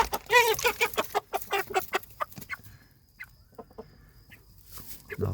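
A shalpang rooster clucks nearby in a fast, loud burst of calls, then gives sparser, quieter clucks, with other faint fowl sounds in the coop.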